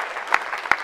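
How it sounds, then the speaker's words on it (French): A church congregation applauds during a worship service, a short burst of steady clapping with a couple of sharper claps standing out. "Ah oui, tu peux acclamer le Seigneur."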